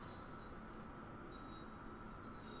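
A Bakerloo Line train in Train Sim World 2 is hauled up a steep incline on a rainy night, giving a faint, steady rumble of wheels and rail noise with no talk.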